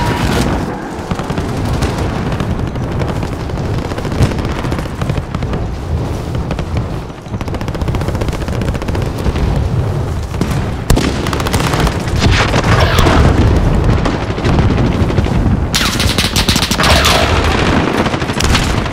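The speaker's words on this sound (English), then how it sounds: "Receiving hostile fire." Dense, loud gunfire in Call of Duty Warzone multiplayer, continuous automatic bursts and booming impacts layered over one another with barely a pause.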